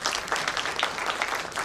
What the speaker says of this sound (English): let's have a big round of applause one more time for Dr. Suresh.